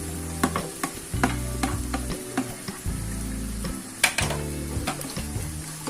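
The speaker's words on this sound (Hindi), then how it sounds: "इसे भी हम अनियंस गार्लिक के साथ अच्छी तरह से सॉटे करेंगे।" Green chilies sizzling and frying with onions and garlic in a hot pan over high flame, with a steady crackle broken by repeated scraping stirs of a spatula against the pan, close and continuous.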